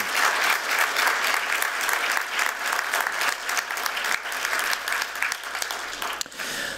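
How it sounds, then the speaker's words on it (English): An audience at the opening keynote of a design conference gives a big, sustained round of applause, dense and even throughout, with a few louder individual claps standing out near the end. "Can we give him a big round of applause?"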